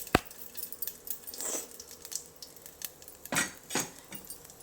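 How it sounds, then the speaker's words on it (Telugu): Raw banana being mashed with a dal masher in a pot, heard as a few soft squelching presses and light metallic knocks against the pot, quiet and close with short pauses between strokes. "ఇది పప్పు గెత్తితో ఇట్లా మెత్తుతున్నాను"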